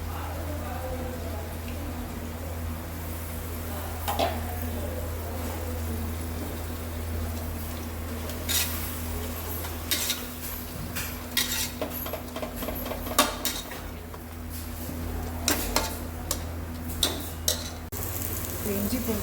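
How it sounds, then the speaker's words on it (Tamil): Ginger garlic paste frying in a pan for mutton biryani, a low continuous sizzle with scattered metallic clinks and scrapes of a spoon stirring, growing busier toward the end, with faint background hum. "இஞ்சி பூண்டு பேஸ்ட் வந்து நல்லா பச்சை வாசம் போகிற வரைக்கும் வதக்கிட்டு"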